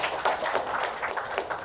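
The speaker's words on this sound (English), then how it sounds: "Let's clap for ourselves there." Audience at a CFA Institute Research Challenge local final in Uganda clapping together, a brief burst of scattered, moderately close handclaps with no talking.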